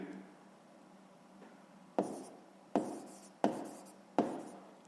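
Writing on a board in a sixth-grade maths lesson gives four crisp, evenly spaced taps and short scratchy strokes, faint and close against a quiet room.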